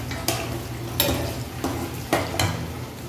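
Kabsa being stirred in a cooking pot: a few spaced scraping strokes of a utensil against the pot under a steady low simmering hiss, close and moderately loud with no voices.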